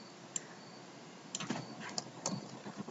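Faint keystrokes on a computer keyboard as code is typed, a few sparse clicks and a short quick cluster in a quiet room.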